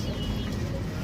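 Madrasi breed pigeon cooing close by in a soft, continuous low murmur, one bird among others being shown, with no talk over it.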